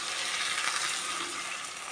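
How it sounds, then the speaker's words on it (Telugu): Half a litre of water poured into a pot of potato curry: a steady, bright rushing splash that runs unbroken for the whole moment, fairly close and alone without talk. "1/2 లీటర్ వాటర్ పోసేస్తాము"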